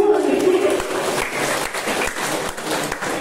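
An audience at a community program verification event applauds in a steady, loud round of clapping, with a brief voice and murmur heard near the start.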